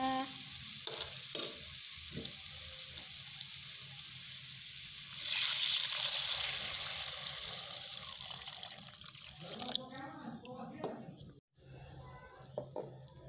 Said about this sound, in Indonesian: setelah bumbu harum, lalu kita masukkan airnya.